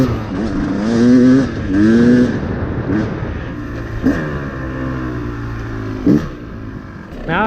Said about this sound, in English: Engine revs out a little bit cleaner